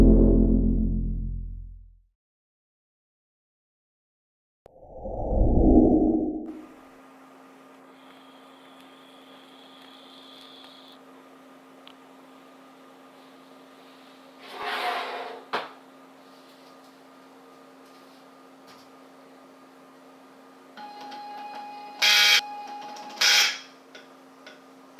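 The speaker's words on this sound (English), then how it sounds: "comes complete with a NEMA 17 stepper motor, which will work with my L298 stepper motor driver" NEMA 17 stepper motor driven by an L298 driver moving a DIY CNC Z axis, a thin steady electric hum with clicks and short bursts of buzzing as it steps, after a few knocks near the start, quiet and close.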